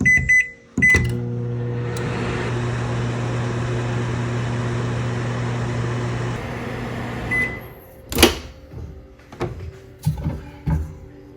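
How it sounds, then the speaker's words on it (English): A microwave oven melting chocolate and shortening hums steadily for several seconds, then stops; a door clunks and a few beeps and clicks follow. "Now I'll place this in my microwave."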